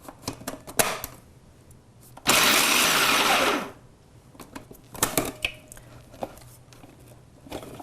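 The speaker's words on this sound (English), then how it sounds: "drop in your walnuts, and you're going to grind those walnuts till they're a powder" Food processor S-blade grinding walnuts into powder: one loud, steady whirring burst of about a second and a half, with scattered clicks and handling clatter before and after.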